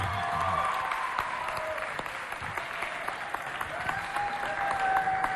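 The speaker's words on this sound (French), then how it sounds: "Applaudissez. Le fair play." An audience applauding after a youth holiday competition result between neighbourhood teams, continuous crowd clapping at moderate level with faint whistles and voices mixed in.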